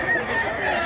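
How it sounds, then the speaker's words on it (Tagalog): A chicken at a spot in Mantalungon, Barili calls once in a sustained, moderately loud burst of about a second, alone with no voices. "Gapong manok."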